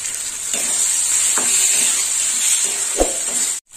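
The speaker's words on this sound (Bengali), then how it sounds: "টমেটো বাটা দিয়ে আরেকটু কষে নেবো" Tomato paste frying and being stirred in a pan, a steady close sizzle with a few soft spoon scrapes and knocks, ending in a brief silence.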